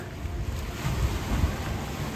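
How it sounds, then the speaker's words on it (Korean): Ocean waves break against lava rocks on a Hawaiian shore, heard as a continuous, loud, rushing wash of surf mixed with wind buffeting the microphone, with a few heavier low thumps. "용암석 틈으로 파도가 칩니다."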